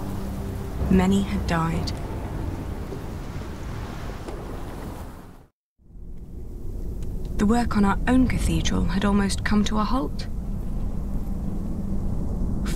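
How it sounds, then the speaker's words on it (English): Storm with heavy rain and rumbling thunder, a dense continuous wash under a narrating voice, briefly cutting to silence before the downpour resumes with more speech over it. "4 weeks the storm had raged on."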